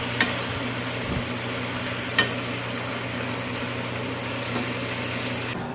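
Chicken browning in a frying pan for mushroom ranch chicken, a steady close sizzle and crackle of hot fat that continues evenly throughout, with a few faint clinks of a utensil.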